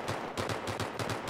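Rapid automatic gunfire in the video game Battlefield 3 during a Gun Master match on Talah Market: a steady, evenly spaced burst of about seven sharp shots, fairly close and alone.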